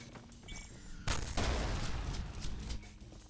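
Rapid gunfire and explosions from the fast-paced shooter video game Ultrakill, where parried bullets detonate; a burst of loud, dense shots and blasts erupts about a second in and continues without pause to the end.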